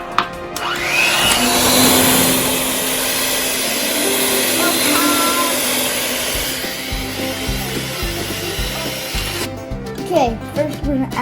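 An electric mixer beats cinnamon sugar donut hole batter with a freshly added egg, a loud continuous motor whine for several seconds that cuts off, followed by softer clatter.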